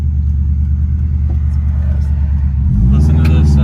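A tuned Subaru running around 600 hp, with a 93-octane map and plans for an IAG Magnum block and cams, rumbles steadily while cruising. The engine drones loud and low throughout, and its pitch thickens near the end.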